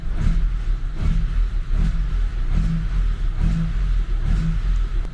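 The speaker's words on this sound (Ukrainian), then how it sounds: "На низеньких, холостих, як ви можете почути. Ось низенькі, прям приємні холості." A ZAZ Tavria engine idling at low revs, warmed to about 80 degrees, a steady close rumble with a regular pulsing beat that carries on unchanged throughout.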